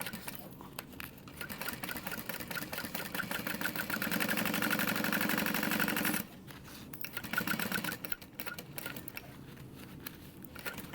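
Sewing machine stitching the lining seam of a crossbody bag, a fast, close mechanical whir that runs steadily for about six seconds, stops, then resumes more quietly in short bursts.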